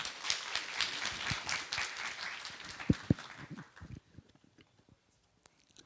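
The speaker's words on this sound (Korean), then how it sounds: "큰 박수 부탁드리겠습니다." A conference crowd at a startup ecosystem event applauds warmly as a host is invited on stage. The clapping thins out and tapers to a few scattered claps, leaving a quiet room.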